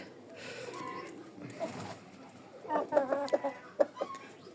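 Domestic hen clucking while laying in its nest in winter, a series of soft close clucks and murmured calls that build toward the end, with a person talking quietly nearby.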